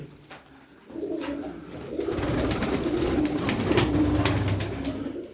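Pigeons in a loft coo repeatedly and close by, a low throaty rolling murmur that starts after a brief quiet moment and continues steadily.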